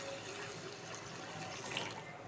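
Water runs steadily into a bowl of raw rice being soaked, a soft, quiet continuous trickle and splash with no talking.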